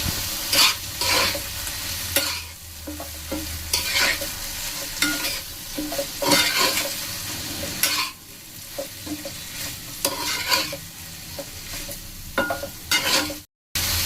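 Soybean egg roll filling with soy sauce and chicken masala being stirred and fried in a pan, with steady sizzling under repeated scraping strokes of a spoon, close and continuous, no voices.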